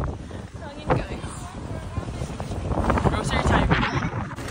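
Gusty outdoor wind buffeting the microphone on a Sunday morning in Canada, rising and falling in loud bursts with some talk mixed in.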